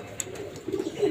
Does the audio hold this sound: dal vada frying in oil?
no